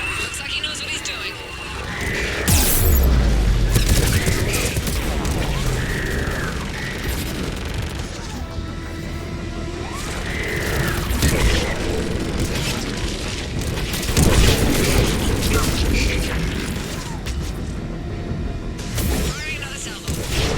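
A missile salvo launches in Mass Effect 3, with deep booms and rushing roars that rise and fall through a dense battle mix under radio chatter.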